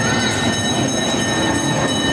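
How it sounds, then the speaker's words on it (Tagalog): A train rolls past close by, a loud continuous rumble of wheels on rails with a bright metallic squeal on top, filling the whole moment without any voices. "Ayun yung train."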